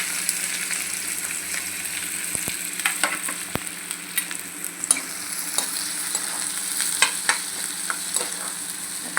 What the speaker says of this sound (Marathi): तेल आपलं गरम झाले, आता आपण कांदा घालूया.